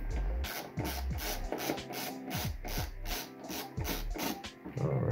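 An LTT ratcheting-style screwdriver set to loosen, backing out a screw: a run of quick clicking ratchet strokes and rasping turns, close and fairly loud, with no talking.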